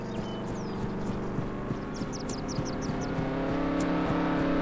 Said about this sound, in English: I started to hear this car racing through town, and then suddenly the engine just stopped.